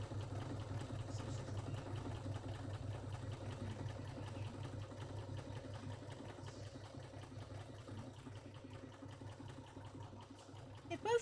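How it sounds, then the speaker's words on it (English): Sewing machine stitching fabric scrap fish: a faint, steady mechanical hum and whirr runs continuously for about eleven seconds at low volume without pause. "then I shall machine sew them at the same time"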